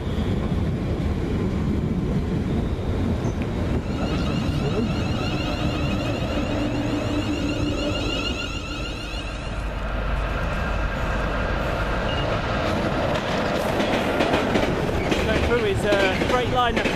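A freight train hauled by locomotive 90047 rumbles through a station near Colchester, with loud continuous rolling wheels, clickety-clack over rail joints and wind buffeting, staying close for the whole passage.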